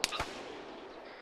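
Sniper rifle shot in Arma 3: one sharp report right at the start with a quick second crack just after, then a long fading rolling echo, moderately loud, no talking.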